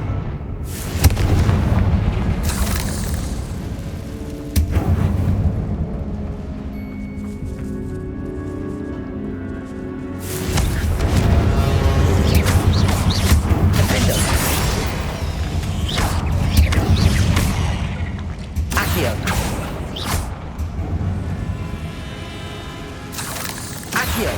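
Confringo blasting spells detonate repeatedly in a tomb in Hogwarts Legacy, several loud booming explosions with rumbling tails and crackling debris, spread across the stretch with no voices.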